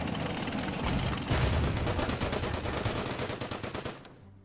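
Rapid machine-gun bursts fire continuously at Belgian bunkers in the war strategy game Order of Battle, a dense string of sharp cracks that builds up, then cuts off abruptly.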